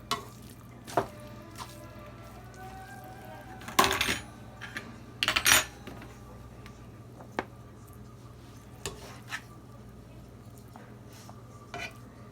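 Utensils scrape and clink against a pan and plates while spicy fried spaghetti is served, with a few sharp metallic knocks and scattered softer taps spread across the stretch.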